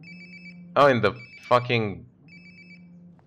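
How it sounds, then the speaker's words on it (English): A phone ringtone repeats in steady electronic pulses within the video game Life is Strange: Before the Storm, heard clearly in the near background while someone talks over part of it. "Sounds like my phone is definitely nearby."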